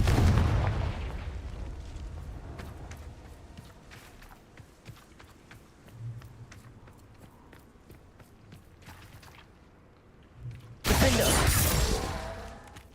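A Confringo blasting spell from Hogwarts Legacy bursts loudly near the end, a sudden dense explosive crash after a stretch of quieter ambient rumble and scattered footstep-like clicks.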